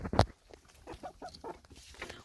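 A single loud hen cluck opens, followed by softer, scattered clucking murmurs close by in a quiet setting.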